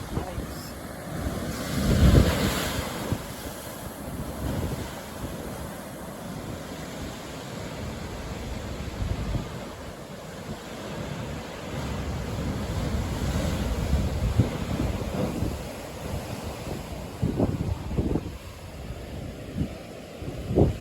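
Surf and gusting wind along the rocky coast at the Pancake Stack Rocks blowholes in Paparoa National Park, New Zealand, a steady roaring wash with rumbling surges and microphone wind buffeting throughout.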